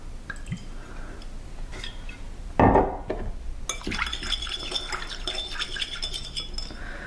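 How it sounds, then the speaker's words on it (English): Wine is poured into a pan of celery root, a sudden wet splash and sizzle near the middle that fades into soft liquid bubbling and faint utensil clinks. "I'm actually going to add a little bit more wine to this."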